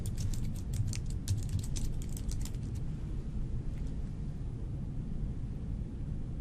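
Quick bursts of computer keyboard typing in the first few seconds, then only a steady hum of background noise.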